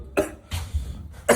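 A person with a cold and chest congestion gives three short, harsh coughs close to the microphone, separated by brief pauses.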